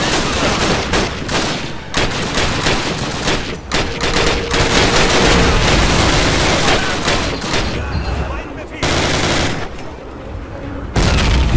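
American soldiers fire in Call of Duty: United Offensive street fighting, with continuous loud bursts of rifle and machine-gun fire rattling nearly throughout, a few brief gaps between volleys.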